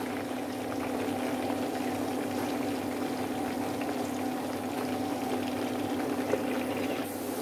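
Breadfruit slices fry in hot oil with a steady, close sizzle and crackle that holds at an even level the whole time, with no talking.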